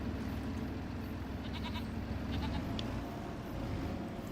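Goats bleat in Farming Simulator 25 on a farm map, a few short bleats at middle distance over a steady wash of background noise.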